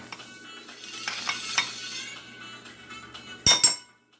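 A metal spoon clinks against a wok while sugar goes into a sweet and sour sauce, a few light taps early on and then two sharper, louder clinks near the end, close up with no talk.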